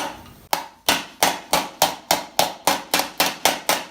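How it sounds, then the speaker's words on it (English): Armor greaves being shaped, a hammer striking sheet metal held over the edge of a wooden block: about a dozen sharp, ringing blows at a steady, even rhythm, close and loud, with no talking. "now I'm using a slightly different hammer"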